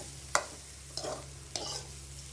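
Carrots cook in a little oil in a pan over low heat, with three distinct spatula scrapes and stirs over a soft, close sizzle.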